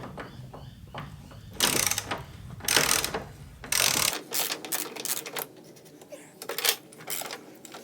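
Mechanical ratcheting and clanking of a wrench undoing bolts on the automatic door opener of a Toyota Coaster bus, coming in several close, loud bursts with short pauses between them.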